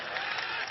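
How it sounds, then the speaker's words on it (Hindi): An audience at a political rally speech applauding, a brief, steady burst of dense clapping heard from a distance without any voice over it. "ठोको ताली ठोको।"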